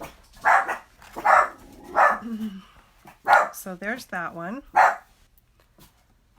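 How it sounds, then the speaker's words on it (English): Several sharp dog barks and yips come in quick bursts, fairly close, mixed with a brief bit of talking. "Sorry for the dogs barking."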